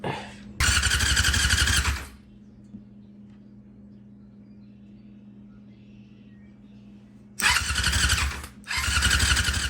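A trashed Yamaha R6 motorcycle that won't start cranks over without firing, in two loud bursts of whirring starter noise separated by a quiet stretch of low hum.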